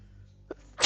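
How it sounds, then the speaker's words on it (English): Single brief sneeze bursts out at the very end after a short sharp intake of breath, loud and close over a low background hum. "Sorry about the sneeze."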